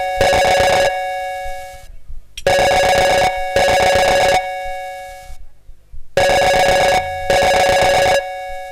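A telephone rings on an outgoing call in a comic Hindi skit, its electronic ring tone sounding in three loud, steady bursts separated by short silences.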